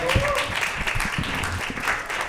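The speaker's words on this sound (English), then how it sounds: "give it up for the prosecution, everybody" A live audience applauds at a comedy mock-trial stage show, a steady wash of clapping lasting a couple of seconds with some voices mixed in.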